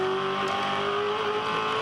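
A Toll HRT V8 Supercar at the 2011 Townsville 400 runs through pit lane, its engine a steady, loud, even drone with a sustained pitched tone throughout, no talk over it.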